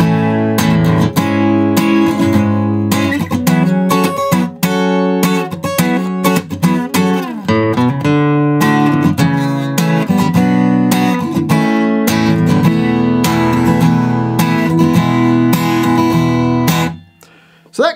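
The chorus of a song is played on guitar, a steady strummed and picked pattern running continuously and loud up close for about seventeen seconds before stopping abruptly.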